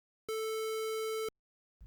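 A one-second square wave test tone generated in Audacity at 0.5 amplitude plays as a steady, buzzy, harsh beep that starts and stops abruptly, followed by a short thump.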